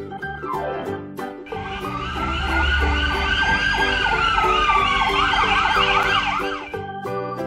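An ambulance siren wails loud and close for several seconds, its tone sweeping up and down in a steady repeating pattern with a low rumble beneath, with no voices.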